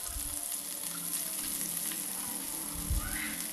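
Shallots, garlic and dried red chillies fry in oil for a Coimbatore-style lunch, giving a steady, moderately loud sizzle with a faint crackle throughout and no talking.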